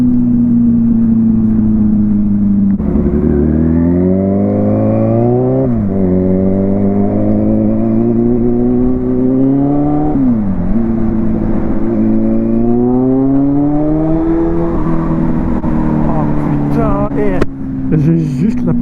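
A motorcycle with a broken exhaust pipe revs loudly and close, its raspy engine note climbing and dropping through repeated throttle blips and long sustained revs, with a harsh buzzy tone throughout.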